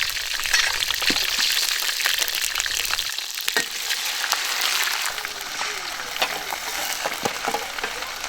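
Ginger and garlic fry in a wok during outdoor camp cooking: a loud, close crackling sizzle with scattered sharp pops and spatula clinks, steady throughout.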